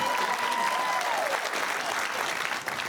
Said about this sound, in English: keep that applause going for Team 2